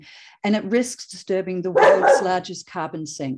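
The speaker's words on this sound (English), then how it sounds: "Sorry, that's my dog." A dog barks a few times in the background while a person speaks steadily in a presentation on protecting the planet's waters. The barks are short and partly covered by the voice.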